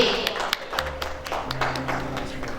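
Applause breaks out at an award ceremony, a crowd clapping steadily with sharp individual claps over a low hum.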